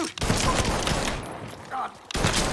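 Gunfire in the video game Mafia 3, a dense, loud burst of rapid shots with crackling echoes, a short pause, then more firing at the end, with game sounds mixed in.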